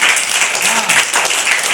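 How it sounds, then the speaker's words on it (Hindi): Children at a three-day values camp clap together loudly and steadily for a classmate, a dense close burst of applause with faint voices mixed in. "इनके लिए ताली बजाओ जोर से"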